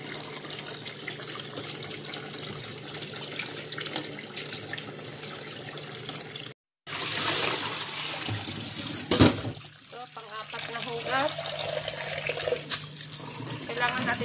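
Ampalaya (bitter gourd) leaves are washed by hand in water, steady splashing and sloshing in a basin, with a brief cut and a louder slosh as water is poured out, under a woman's intermittent speech.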